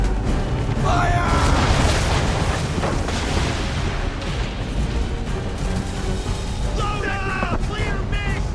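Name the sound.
ship cannons firing in a broadside, from video game Assassin's Creed III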